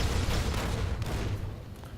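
Artillery fire and explosions roll through a video game barrage, a dense, continuous fusillade of booms and cracks for two seconds, loud and sustained with no talk on top.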